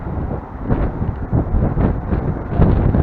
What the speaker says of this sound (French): Et j'ai le vent de face, mais un gros vent de face